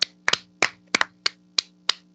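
Several people clap hands in a steady run of about eight sharp claps, with a low background hum.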